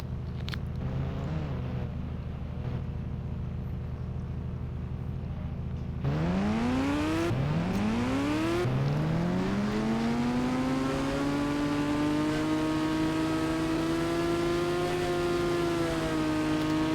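Hayabusa motorbike racing a train in a video game: a steady low engine drone, then rising revs sweep upward in two quick shifts before settling into a long sustained high whine, loud and close, with no talk.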